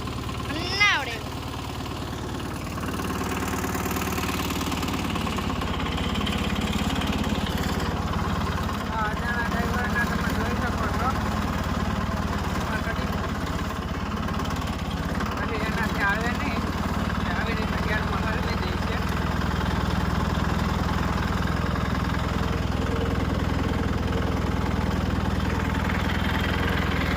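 A tractor engine runs in gear, a steady mid-to-low rumble with vibration that holds loud and constant throughout, while people talk over it now and then.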